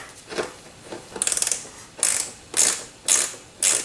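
A ratchet works a 3/8 bolt loose on a Troy-Bilt self-propelled lawn mower: a fast clicking run of pawl ticks, then several short separate ratcheting strokes, close and fairly clear.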